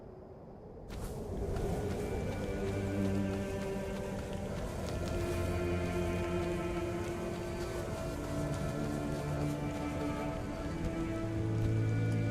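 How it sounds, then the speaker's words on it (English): Rain falls steadily onto surfaces in the video game Tainted Grail: The Fall of Avalon, a continuous patter over low droning hums, beginning abruptly after a moment of quiet. "It's raining here."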